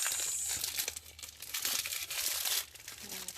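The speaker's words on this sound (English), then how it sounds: "we are going to be unwrapping this" Plastic packaging around a box of wooden number cards crinkles and crackles steadily as it is unwrapped, with close, continuous rustling and brief tearing bursts.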